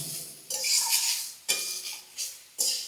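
A metal spoon clinks and scrapes against a pan while turmeric and spices are stirred for a sweet potato and tamarind chutney. Three rhythmic bright strokes sound close and clear, with no voices.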